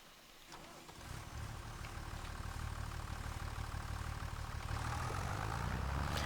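A tractor engine idles in Farming Simulator 25, starting low and swelling into a steady, close droning rumble that holds for several seconds with no talk over it.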